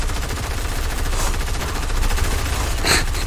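Rapid, continuous gunfire in a Fortnite match during the Travis Scott event, a dense, loud rattle of shots with a couple of sharper cracks standing out, no talking.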